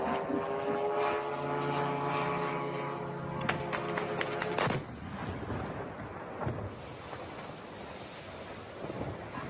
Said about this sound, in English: I guess that's a drone.